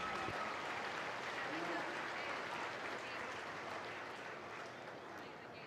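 Audience at a market beef cattle show at the Colorado State Fair giving a sustained round of clapping that slowly tapers off, heard at moderate distance in an arena.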